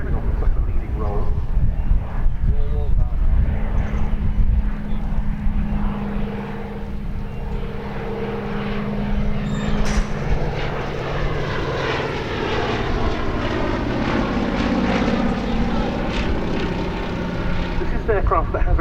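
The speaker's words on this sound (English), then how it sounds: "Now the Swordfish." Fairey Swordfish vintage biplane flying at the Duxford Battle of Britain Airshow, a steady propeller engine drone passing at moderate distance, loud and continuous, with a commentator's voice over a public address system.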